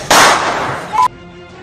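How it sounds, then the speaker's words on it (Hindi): A loud sharp gunshot cracks near a shop in Jafrabad, Delhi, followed by a shorter second bang and a quick fade to quiet. "तभी तो सरेआम दनादन फायरिंग कर रही है"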